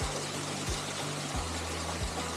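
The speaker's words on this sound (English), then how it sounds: "There's the waterfall." A small waterfall on a creek trail trickles and splashes in a steady, even wash of water noise, close and continuous with no voices over it.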